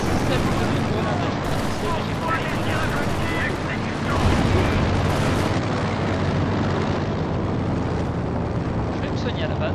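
A grenade explodes in the World War II strategy game Company of Heroes 2, a burst of blast noise amid continuous battle sounds of gunfire and rumbling, with someone speaking over it.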